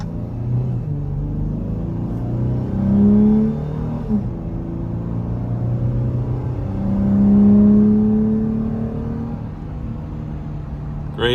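A 2023 Dodge Challenger SXT pulls hard from a standing takeoff, its engine rumbling loud and close with two rising rev sweeps as it climbs through the gears, heard from inside with no talking.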